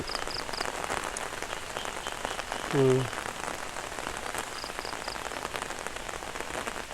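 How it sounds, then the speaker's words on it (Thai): Steady rain falls through a storm in the Thai countryside, with a continuous dense hiss of drops on surfaces and a brief low murmur from a voice partway through. "บรรยากาศฝนตกจริง ๆ"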